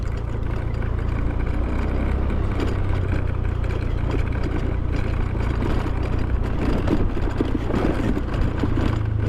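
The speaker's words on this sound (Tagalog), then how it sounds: "Nakakaraan yung motor eh" A motorcycle runs on the carabao racetrack at a carabao race in Mapalad, Arayat, Pampanga, giving a steady, close engine drone with low throbbing rumble that holds for the whole stretch, with no talking.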